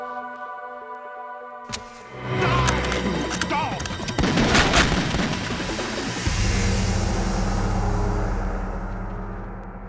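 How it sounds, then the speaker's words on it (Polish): Gunfire in Metal Gear Solid 2: Sons of Liberty. A sharp crack comes first, followed by dense, rumbling bursts of shots and booms over a steady low game hum that carries on to the end. "2 strzały oddał, nie?"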